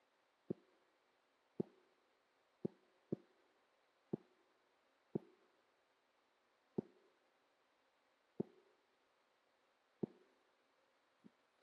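A monastery activity bell at a Zen retreat is struck in an uneven rhythmic sequence of about ten clear, resonant strokes, each ringing briefly and fading in a quiet room.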